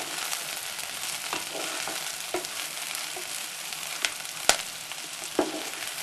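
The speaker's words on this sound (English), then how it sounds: "Add the broccoli, including the stalks and all the little bits, and stir fry just for a minute or so." Broccoli florets and stalks stir-fry in a pan with a steady, close sizzle, broken by a few sharp clicks and scrapes from the spoon against the metal. No one speaks.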